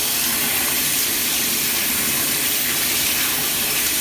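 Warm water streams steadily from a bathroom tap for skincare face washing, a continuous close hiss and gush with no break.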